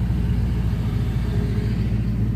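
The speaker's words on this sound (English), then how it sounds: "You can see we're idling at about 850 with the car in drive" A car engine fitted with Holley Sniper EFI and a Fitek fuel system idles in drive at about 850 rpm, giving a steady, loud low rumble with no other sounds.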